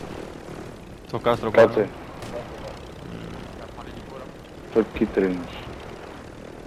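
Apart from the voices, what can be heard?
helicopter flying overhead in Call of Duty Warzone video game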